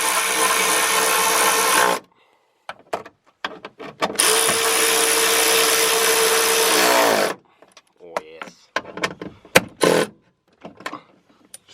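A power tool buzzes in two loud, sustained bursts while tightening 10mm bolts on a seat belt fitting in a GU Patrol, followed by clanks, short whirs and handling noises.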